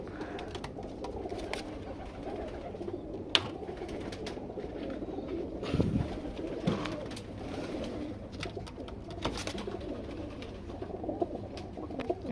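Breeding pigeons in an aviary coo softly and repeatedly, with a low murmuring flock sound, occasional wing flutters and small knocks in the background.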